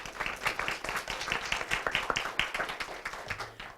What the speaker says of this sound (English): so a round of applause and thank you for them as well